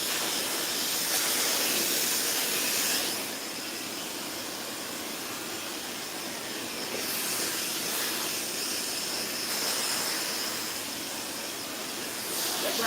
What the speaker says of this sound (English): So all I'm doing is just using the blow dryer to go in between the taping and her hair